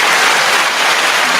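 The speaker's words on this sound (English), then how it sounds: "hit them with the applause" Brief burst of dense applause, a steady hiss-like patter of many hands clapping with no pauses.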